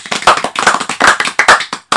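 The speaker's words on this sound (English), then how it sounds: "Round of applause." Sharp, close hand claps in quick, uneven bursts, a brief round of applause from a few people in a small room rather than a large crowd.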